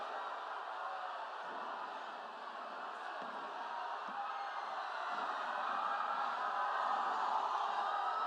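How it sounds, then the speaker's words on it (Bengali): A large crowd applauds and cheers at a government service-distribution event in the DSA stadium in Malda, a dense, steady roar of clapping and voices that swells slightly toward the end. "সকলে করতালির মাধ্যমে আজকের এই সরকারি প্রধান অনুষ্ঠানে আমরা অভিবাদন জানালাম আমাদের প্রিয় মুখ্যমন্ত্রী মমতা বন্দ্যোপাধ্যায়কে।"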